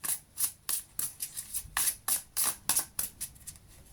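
A deck of tarot cards is shuffled by hand in a rapid series of crisp riffling bursts, about a dozen close, papery snaps in an uneven rhythm with no talk over them.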